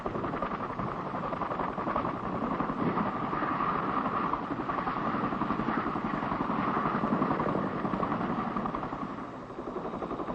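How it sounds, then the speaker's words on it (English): A Chinook helicopter with twin-turbine engines and tandem overlapping rotors drones steadily at a distance, a continuous throbbing roar with a faint rhythmic chop and no talking. "Army aviation personnel are familiar in a general way with the Chinook helicopter"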